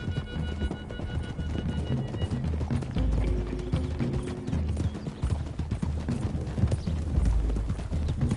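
Rhythmic hoofbeats of horses galloping in the video game Red Dead pound steadily over a low rumbling mix, loud and continuous throughout.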